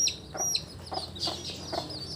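Young chicks in their coop on a farm give soft, repeated clucks and peeps in a steady uneven rhythm, fairly close but quiet, with occasional thin high chirps over a low background hum.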